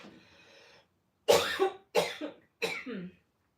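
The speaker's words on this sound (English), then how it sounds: "I think I'm going to have a coughing fit," Three harsh coughs burst out close by in quick succession, each one sharp then trailing off, after a brief soft breathy sound.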